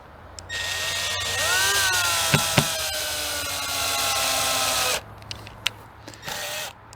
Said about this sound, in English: We just place the screw into the hole